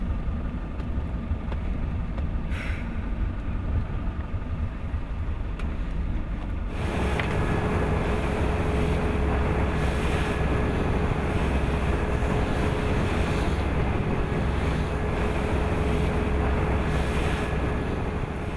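A motorboat drones along at sea on one engine on the coast toward Padstow, a steady loud hum with a faint tonal whine under wind noise and water rush, growing noticeably louder after the first several seconds.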